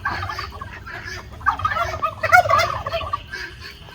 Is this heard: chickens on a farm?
yes